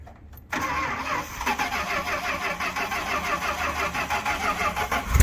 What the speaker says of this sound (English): First time hearing it through these side pipes.